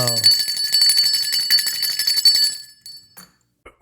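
A small bicycle-type bell rings in a quick run of bright metallic dings for a couple of seconds, then trails off into silence, close and loud with no talk.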